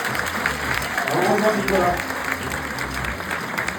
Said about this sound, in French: On peut applaudir, hein, c'est une applaudissement.